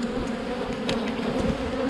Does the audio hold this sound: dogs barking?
no